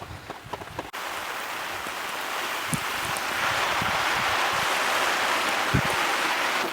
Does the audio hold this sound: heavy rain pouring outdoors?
yes